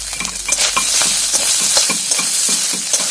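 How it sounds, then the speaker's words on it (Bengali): Loud, bright sizzling of coconut pieces frying in hot oil, with frequent clinks and scrapes of a spatula stirring the pan, close up. "প্রথমে নারকেলটা ভেজে নেওয়া হবে"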